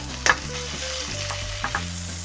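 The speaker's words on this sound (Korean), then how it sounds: "한 1분 정도 지난 것 같은데 이제야 지글거리기 시작했어." A hamburg steak fries in a pan, giving a continuous crackling sizzle with a few sharper pops, while light utensil taps and faint background tones run underneath.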